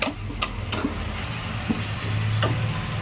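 Chicken fries in masala in a pan for chicken biryani, making a steady close sizzle with a few sharp stirring clicks and scrapes and no talk.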